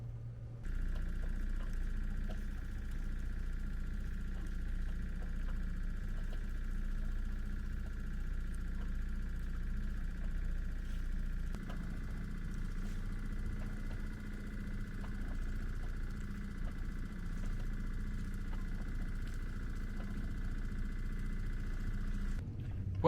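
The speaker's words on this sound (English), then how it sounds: "We'll take the sails down and start the motor and see what happens." Sailboat auxiliary motor running steadily under way, a continuous low idle-like drone with a faint high whine, unbroken for over twenty seconds, with no talking.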